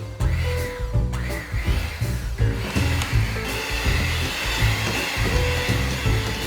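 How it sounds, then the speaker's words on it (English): An electric hand mixer whirs steadily as it beats soft butter with icing sugar, a pinch of salt and lemon zest for a Paradise Cake batter, a loud continuous motor drone with shifting pitch as the beaters move. "At this point, we start mixing with the mixer."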